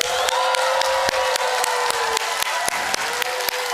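A church congregation at a Sunday service applauds loudly with sustained, dense clapping and some cheering, continuous throughout at close range.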